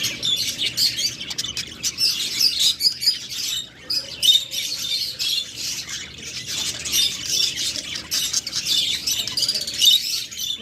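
Caged budgerigars in assorted colours at a bird breeder's, chirping and squawking in a dense, continuous chatter of many birds close by, with no voices over them.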